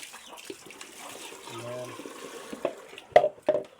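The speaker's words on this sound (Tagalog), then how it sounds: "Lagyan natin ng tubig." Water splashes and trickles into a container in short bursts while making chili seed preparation, with a few louder sloshes near the end, amid soft background voices.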